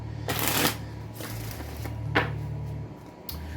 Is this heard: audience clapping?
no